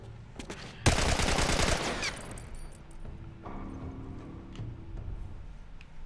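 Gunfire in The Last of Us video game: one sharp shot is followed by a loud, rapid burst of automatic fire lasting about a second, then lighter clatter and a low background rumble.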